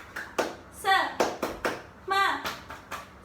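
Children in a third-grade classroom perform a clapping chant, with rhythmic hand claps in short bursts mixed with their chanted voices, close and lively.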